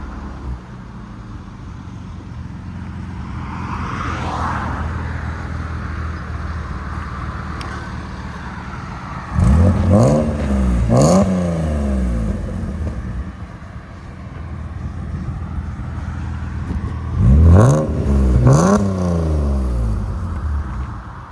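A 1986 BMW 325es fitted with a swapped M3 engine, five-speed manual and Magnaflow exhaust, idling with a low rumble and then revving hard twice, each rev a loud rising and falling exhaust roar, with no talk.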